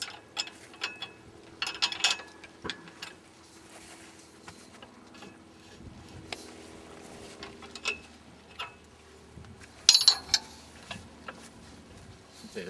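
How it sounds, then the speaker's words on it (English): Metal pin pulled on a vineyard mist sprayer boom and the spray heads slid outward, giving scattered clicks, clanks and a ratcheting scrape with quiet gaps between, close and fairly soft. "So I'll just pull the pin on the boom and slide the heads further out."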